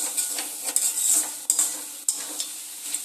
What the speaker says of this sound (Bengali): এবার নাড়াচাড়া দিয়ে নেবো আবারও একটু